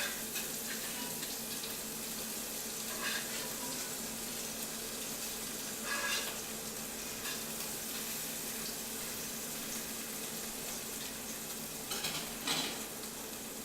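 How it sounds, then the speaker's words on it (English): Beef donair meat frying in a pan gives a steady, close sizzle throughout, with a few brief scraping or stirring bursts rising above the constant hiss. "Frying up so nice. Not sticking at all."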